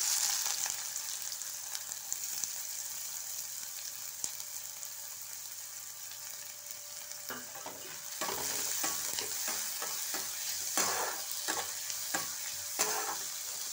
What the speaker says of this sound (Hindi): तेल हमारा गर्म हो गया सबसे पहले हम इसमें डालते हैं प्याज